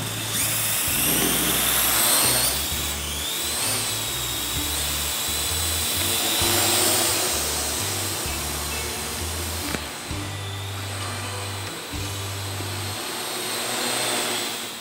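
Rotors of an AR Drone 2.0 quadcopter spinning up for takeoff, a loud sustained high whine with a wavering pitch that holds nearby throughout.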